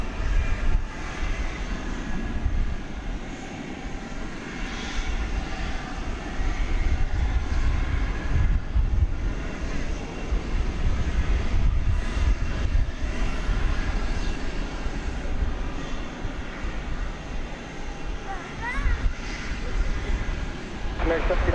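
An Airbus A321 airliner at DFW Airport at night: a steady, broad jet rumble that lasts throughout and swells slightly in places, with voices talking over it.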